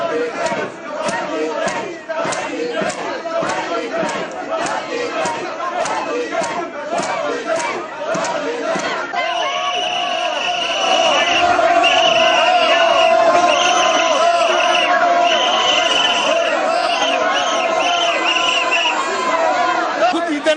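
Uproar of members of parliament in the Somali parliament hall during a motion, with loud overlapping shouting and chatter from many voices throughout, growing louder and denser in the second half.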